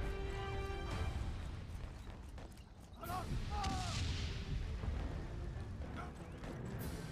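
Artillery fire in the World War I video game Valiant Hearts: The Great War, with heavy booms and crashing blasts over a rumbling battlefield backdrop, and a brief voice breaking in midway.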